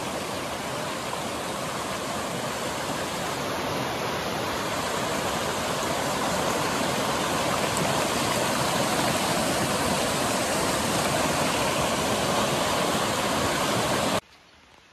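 Water rushes loudly and continuously at Neora Dam in the Dooars of North Bengal, a dense close roar of fast-flowing current with no voices, cutting off abruptly at the end.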